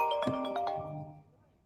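A phone ringtone plays a short melodic chime phrase during a talk, notes ringing and fading away within about a second.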